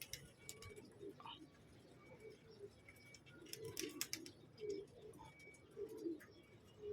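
Australian pigeons coo softly in a series of low, rounded calls repeating every second or so, faint and at a distance, with occasional light clicks and rustles around them.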